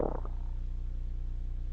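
A low, gurgling stomach rumble in the Roblox game Pine Fall, a short burst at the start that fades into a quiet, steady low hum, faint and alone.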